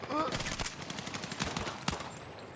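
An MP7 submachine gun fires rapid bursts in Battlefield 6, its close, sharp shots rattling in quick rhythmic succession with a louder crack near the end.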